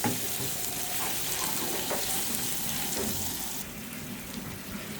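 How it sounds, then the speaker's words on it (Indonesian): Spice paste sizzles steadily as it is sautéed in oil left over from frying shallots, a continuous close frying hiss with faint stirring and clinks, no talking. "Lalu dengan minyak yang tadi buat goreng bawang, kita akan tumis bumbu halus."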